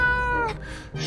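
A cat meows once in the survival game 60 Seconds!, a short clear drawn-out mew heard close over a low game background hum.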